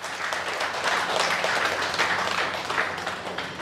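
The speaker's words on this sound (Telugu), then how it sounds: "ఒకసారి గట్టిగా క్లాప్స్ కొడదాం" A crowd at a spiritual gathering claps loudly, a dense, sustained wash of applause with no break across the short stretch.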